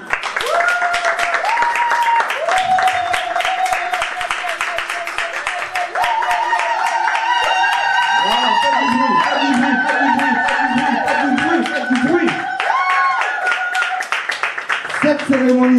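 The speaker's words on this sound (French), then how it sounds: "notre sœur, Charles et Nadège, que je vous demande d'applaudir." Wedding guests at a reception in Paris clap continuously, the sharp handclaps heard alongside loud music with sustained melodic tones throughout.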